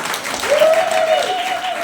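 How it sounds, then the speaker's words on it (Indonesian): A church congregation at an Easter women's ministry service claps, a steady crowd applause under a sustained sung or hummed tone that rises and holds through most of the clip. "Boleh tepuk tangan?"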